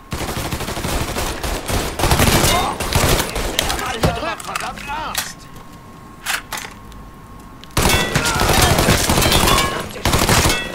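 Bursts of gunfire from a sniper companion in Mafia 3, loud and sharp in irregular volleys, with a quieter stretch in the middle before the shooting picks up again.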